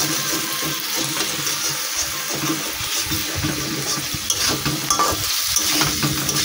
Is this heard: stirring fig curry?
yes